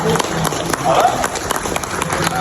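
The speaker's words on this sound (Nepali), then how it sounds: "ताली गर्नुहोस् न" Wedding guests clap in a quick, uneven patter that stays close and fairly loud, with voices talking over and through the clapping.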